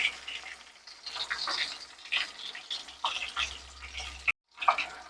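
Catla fish pieces frying in oil in a pan, crackling and sizzling in irregular bursts at close range, with soft clinks and stirring, no voice.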